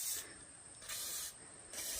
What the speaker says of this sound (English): high quality WD-40 rust penetrant spray